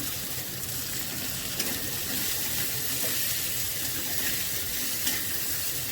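Spice paste (masala) with potatoes, green chillies and salt fries in a covered pan for a rohu fish curry with ridge gourd, giving a steady, dense sizzle that runs unbroken throughout at close range with no talking.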